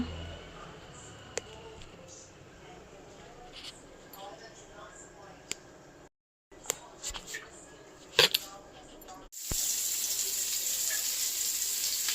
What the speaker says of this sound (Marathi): आता फ्राय करता.